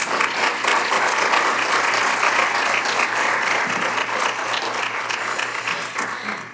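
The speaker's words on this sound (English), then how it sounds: "I think we should give our panelists a round of applause." Audience applause for the panelists at the end of a 2021 agricultural leaders debate, a dense, even round of clapping filling the room for over six seconds and tapering slightly at the close.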